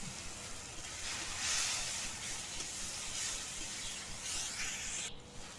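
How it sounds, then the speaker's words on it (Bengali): Cumin, chilli, turmeric and salt fry with a little water in a village kitchen pan, giving a continuous close hiss and sizzle with gentle surges and no voices. "এবার এর মধ্যে দিয়ে দিচ্ছি অল্প পরিমাণে জল দিয়ে মশলা ভালো করে কষিয়ে"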